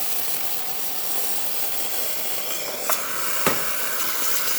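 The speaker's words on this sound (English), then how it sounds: "excellent steam, great temperature, great pressure" Gaggia espresso machine hissing as it builds steam pressure, a steady broadband rush with two brief sharper bursts near the middle, close and alone with no talk.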